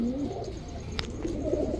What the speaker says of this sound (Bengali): এক জোড়া গ্রিন নেক হাঙ্গেরিয়ান হাই ফ্লেয়ার বুদাপেস্ট মাদি কবুতর